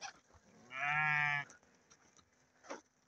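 A single sheep bleats loudly and close by in a farm pen, one sustained harmonic call lasting under a second amid quiet background rustle.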